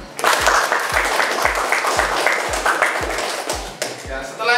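Lower-secondary school class applauding together in a classroom, loud, close clapping sustained for several seconds with a steady underlying thump, and voices rising near the end.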